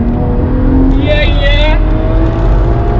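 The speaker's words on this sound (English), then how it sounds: "we can hear the lovely sounds of that straight six." A tuned BMW 335i convertible's straight-six engine hums steadily from inside the open-top car in motion, with a brief higher whine swelling midway over continuous road and wind noise.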